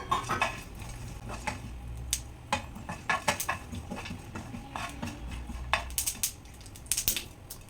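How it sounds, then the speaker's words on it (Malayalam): Flax seeds roasting in a pan make small sharp pops and crackles that scatter irregularly over a steady sizzle, mixed with occasional clinks and scraping of a stirring utensil. "വറക്കുമ്പോൾ തന്നെ ആ ഫ്ലാക്സ് സീഡ് എല്ലാം ഇങ്ങനെ പൊട്ടുവേ."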